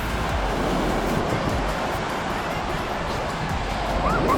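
Small ocean waves breaking along a beach at a national seashore, a constant wash of surf mixed with wind buffeting the microphone, steady and fairly loud, with faint voices in the background.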